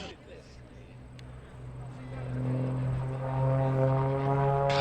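Michael Wiskus's aerobatic propeller plane drones at an air show, its engine building from a distance into a loud, sustained buzzing roar with shifting pitch, while a commentator talks over it.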